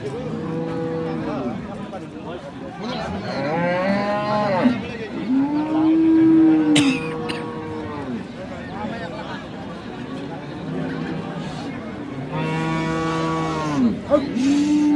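Cows at a busy village cattle market moo repeatedly in long, loud, drawn-out calls, several in a row, while people bargain and talk nearby.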